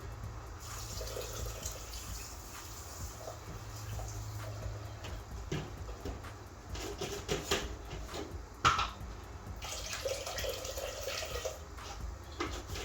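Steady running water splashes and trickles continuously, close by, with occasional louder sloshes as quinoa is swished and rinsed under the stream.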